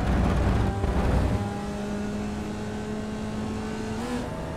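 Formula Vee race car in iRacing at Okayama International, engine held at full throttle as a steady buzzing drone, louder at first, then holding a sustained pitch.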